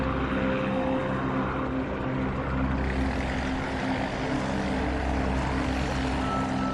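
Steady drone of a Spitfire Mark IX aircraft with its Merlin 61 engine, a continuous loud propeller roar with strong low harmonic hum, sustained without a break and no talking.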